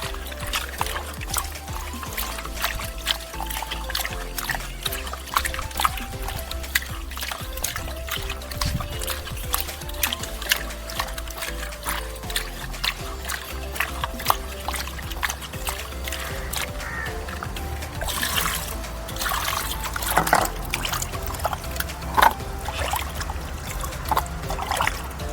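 Water runs and splashes steadily while sardines are rinsed by hand, with a continuous trickle and pour punctuated by frequent clattering knocks and handling sounds close by.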